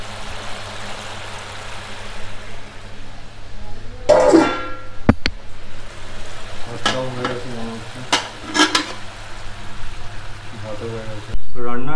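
Starchy rice water being drained from a covered rice pot in a home kitchen, a rushing, splashing pour that comes in bursts with brief clanks of the lid, while a person talks over it.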